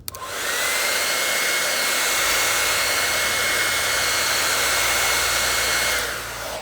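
A heat gun blows steadily while warming 3M outdoor-grade adhesive behind the trunk tail light and chrome trim of a Tesla Model S, a loud constant airy whine that starts abruptly and runs alone for several seconds.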